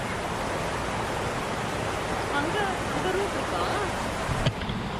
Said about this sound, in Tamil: இல்லை தண்ணி போகிறது தான் அது